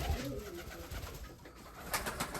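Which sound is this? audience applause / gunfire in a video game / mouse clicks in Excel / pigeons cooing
pigeons cooing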